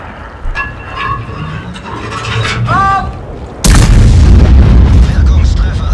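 Rheinmetall tank destroyer cannon in a video game: one sudden loud boom crashes in midway and rumbles on, after quieter engine and interface tones.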